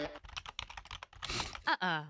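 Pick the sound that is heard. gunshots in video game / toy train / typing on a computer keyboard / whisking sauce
typing on a computer keyboard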